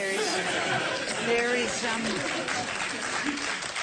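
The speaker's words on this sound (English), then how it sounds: "Again, applause for a cheap point." Audience applause at a televised interview with a live studio crowd, a dense clapping wash mixed with scattered chuckles and murmuring voices throughout.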